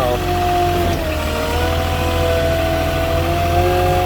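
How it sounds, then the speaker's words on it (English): Road traffic near a hotel under renovation, heard as a steady, fairly loud engine drone of vehicles going by with no breaks. "There's a little bit of traffic on this road."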